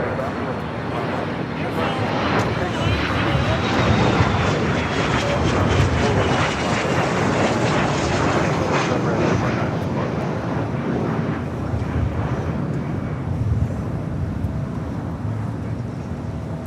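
Airliners take off from the south side of LAX airport, a loud, sustained jet roar with a slowly shifting whine that fills the whole stretch, rumbling strongly and close by.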